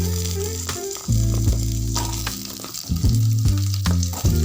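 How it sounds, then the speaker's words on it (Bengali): Papaya pieces fry in white oil in a wok, giving a loud, continuous sizzle with bright crackle, close by, over a steady low tonal hum that shifts pitch. "কড়াইতে আরেকটু সাদা তেল দিয়ে এবার আমি পেঁপেটাকে ভেজে নেব।"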